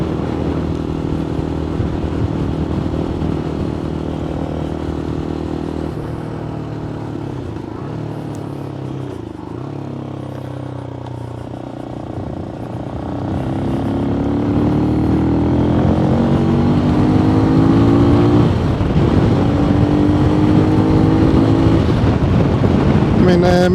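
A single-cylinder MGB ATX-T 125 motorcycle drones steadily as it is ridden, then its engine note climbs and rises through the revs under rushing wind, loud and close, with some talk over it.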